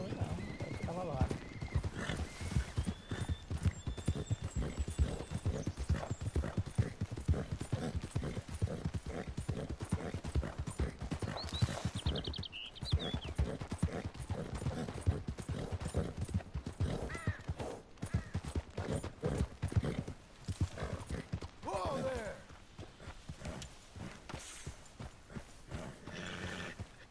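A wild horse gallops in the video game Red Dead Redemption 2, with repeated hoofbeats and a neigh or whinny over a busy game soundscape, while a person talks through much of it.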